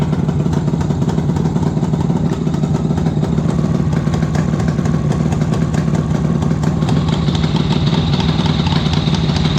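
The engine of a 1976 Suzuki GT750 motorcycle runs loud and close, a steady, unevenly firing idle with a constant mechanical clatter and no clear revving throughout.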